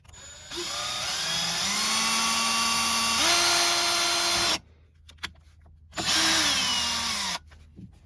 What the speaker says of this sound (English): we're gonna drill out the holes on the bumpers